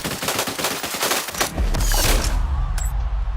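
Rapid bursts of gunfire crackle through a video game firefight against a world boss, sharp repeated shots giving way at midpoint to a heavier, sustained low rumble of battle.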